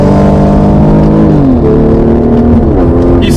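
An Infiniti Q50 with a Racebox transmission tune pulls hard under steady loud engine drone, rising in pitch, dropping quickly at the upshift into third, then climbing again, with no voices.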